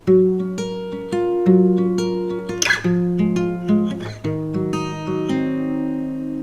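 Plucked acoustic guitar notes ring out in a steady picking pattern through the chords of a song, with sustained, overlapping tones.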